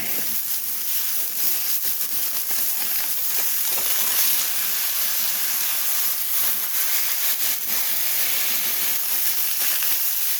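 Wagyu smash burgers with onions sizzle on a 36-inch Blackstone griddle, a loud, continuous broadband hiss that holds steady close by with no talk.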